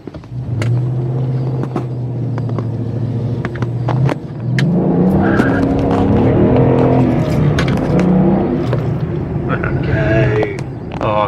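A 2014 Ford Mustang GT engine drones steadily from inside the car, its rumble rising in pitch as it accelerates, with people talking over it throughout.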